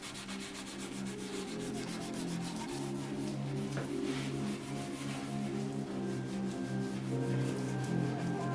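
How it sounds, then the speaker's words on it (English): A clean 3M white pad buffs finish into a walnut table, making a steady, close, rhythmic rubbing that continues without a break. "After I really buffed all that finish in, I came back with a clean white pad and then buffed it in again"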